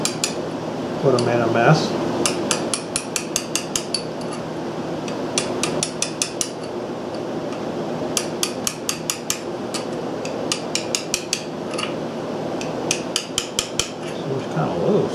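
A hammer taps a seal into place on a Briggs & Stratton Model B engine: a series of sharp metallic clinks in short irregular clusters, close and bright, with a brief spoken remark early on.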